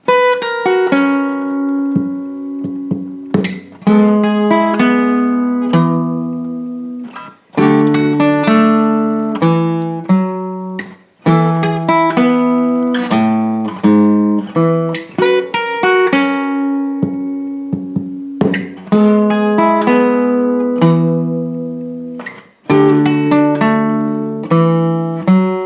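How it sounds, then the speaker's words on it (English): Electric or acoustic guitar plays a bass line and lead solo together on a song, a steady, continuous stream of picked notes with ringing chords, loud and close with no talking. "You can play the bass line at the same time as the solo."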